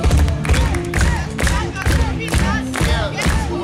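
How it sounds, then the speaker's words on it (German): A concert audience at a medieval festival in Dortmund, with a band, claps rhythmically along with the music in a steady beat of loud, evenly spaced crowd claps, mixed with cheering and singing. "zu dem ihr rhythmisch mitklatscht"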